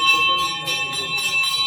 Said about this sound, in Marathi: आता ही अशा प्रकारे घंटी वाजवल्यानंतर सगळे गावातले ग्रामस्थ जमा होतात मंदिरात.